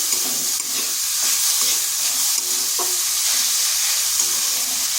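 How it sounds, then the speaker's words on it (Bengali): Sugar and chopped coriander being stirred into a hot semolina and carrot snack mixture, with a steady loud sizzle and hiss and soft intermittent scraping of the stirring spoon, no talk. "এরপর এগুলো ভালো করে মিশিয়ে নিচ্ছি"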